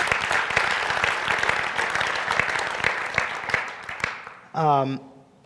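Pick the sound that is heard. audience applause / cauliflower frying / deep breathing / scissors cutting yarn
audience applause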